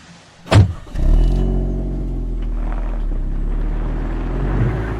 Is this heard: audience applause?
no